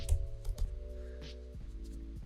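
Keys tap on a computer keyboard, a couple of quick clicks at the start and a few softer presses later, over a steady low electrical hum with no speech.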